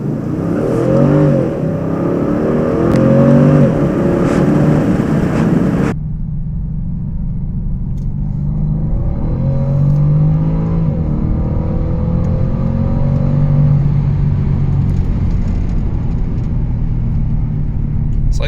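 A supercharged 510 hp Jaguar XFR V8 accelerates hard with a loud, continuous engine roar and rising revs, the tone shifting partway through, with a lower cabin rumble afterward.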